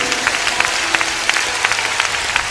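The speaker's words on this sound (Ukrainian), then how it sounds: "Пожалуйста, поприветствуйте их, пожалуйста, аплодисментами." A gathered audience welcomes guests with applause, steady mid-distance clapping with occasional sharper individual claps standing out above the crowd.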